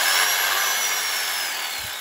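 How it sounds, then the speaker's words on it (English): Power drill boring into a wooden barn door, a steady high whine held for the whole stretch with a slight fade toward the end. "I got a drill."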